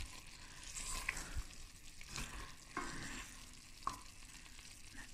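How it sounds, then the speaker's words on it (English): Carrot and pea stew simmering in a pot, a quiet, soft bubbling and faint sizzle with occasional light clinks and stirring scrapes, close and low in level. "I'm making some carrot and pea stew. It's just simmering away."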